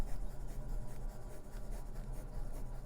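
A Jinhao Shark fountain pen with an extra fine nib writing on paper, giving a soft, steady, slightly scratchy scraping of nib strokes, close and quiet with no talking.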